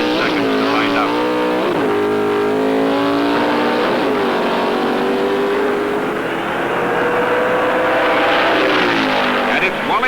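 Pro Stock drag race cars roar at an NHRA national meet, a loud continuous engine howl rising and falling as they launch and run, with a voice commentating over the noise.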